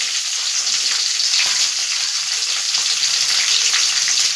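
Onions fry in hot oil with fennel, cumin, cashews and mint, giving a loud, dense, even sizzle that stays constant and close throughout, with no talking.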